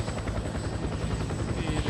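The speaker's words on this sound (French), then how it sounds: "Donc dans celui-là, c'est un hélicoptère." A helicopter in the video game Fear The Wolves gives off a steady, whirring rotor drone with a rapid, even chop, moderately close and constant throughout.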